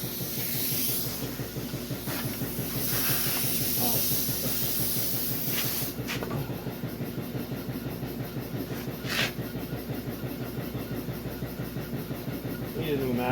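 Air spray gun applying paint to a Cadillac car body at around 14 to 15 psi in a narrow stream, giving a steady close hiss that runs throughout with brief louder bursts, while people talk underneath.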